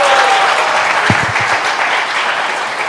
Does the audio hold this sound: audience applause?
yes